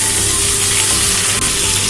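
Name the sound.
chicken frying lightly with onions in pan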